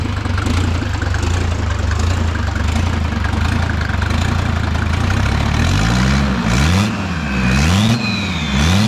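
A car engine idles loudly and unevenly close by, a steady rough drone, then it is blipped several times in quick succession near the end, with no talking.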